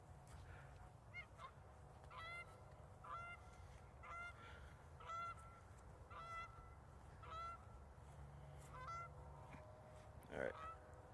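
Geese honking repeatedly in the distance outdoors near a statue, a steady series of harmonic calls over low ambient rumble, with one louder nearer honk toward the end.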